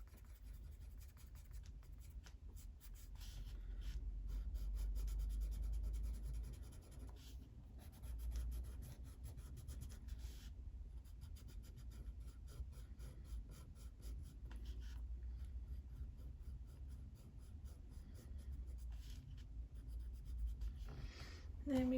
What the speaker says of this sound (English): There we go, blending pencil, and I'm just going to go over this part.